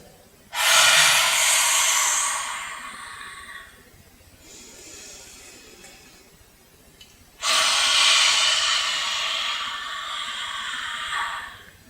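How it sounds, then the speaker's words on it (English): Two long, forceful breaths in a Kripalu yoga class, dragon-breath exhales with the tongue stretched out, each a loud rushing hiss lasting a few seconds, separated by a quieter inhale. "as we exhale, our tongue is stretched as far forward and down as you can, like a dragon"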